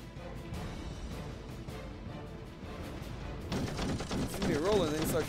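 Enemy fighter planes' machine guns firing in the WWII arcade flight game Sky Gamblers: Storm Raiders, rattling bursts amid engine drone and game effects that grow louder toward the end.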